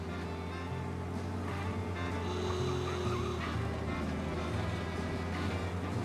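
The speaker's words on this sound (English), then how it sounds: "Why is everybody honking at me?" Car horns honk in a busy video game city street, several overlapping blasts of varying pitch sounding over dense traffic and engine noise, loud and continuous.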